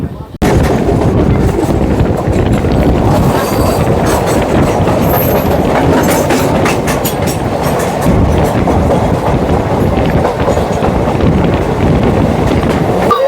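Santragachi–Digha winter special train 02847 rolling along the rails, a loud, close, continuous rumble with rhythmic clickety-clack and buffeting wind noise, heard from on board.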